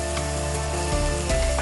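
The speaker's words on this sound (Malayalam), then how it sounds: "നല്ല തീയിലാണ്, അത് കാരണം പെട്ടെന്ന് തന്നെ എല്ലാം റെഡിയാകും. ചൂടായി കിടക്കുകയാണ് നമ്മളുടെ ചട്ടി" A hot pan over a high flame sizzles loudly and steadily while greens for drumstick-leaf thoran fry, with faint stirring scrapes, close up and without talk.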